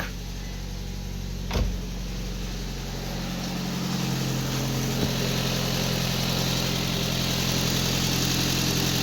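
A 2015 Nissan Micra engine, overheating, idles with a steady, low hum and rumble, broken by a brief click near the start, continuing evenly throughout.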